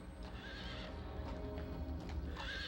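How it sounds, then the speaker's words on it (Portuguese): A horse arriving with a messenger in a staged historical scene: hooves clip-clop steadily while the horse neighs loudly twice, once early and again near the end, with no speech. "Um mensageiro chegou a cavalo"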